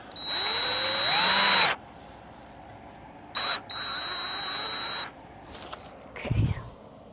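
A power drill drives a screw into wood while rabbit cages are being rebuilt: a loud whirring run with a rising pitch, a brief blip, then a second steady burst, with faint handling noise afterward.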